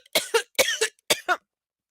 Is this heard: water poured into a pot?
no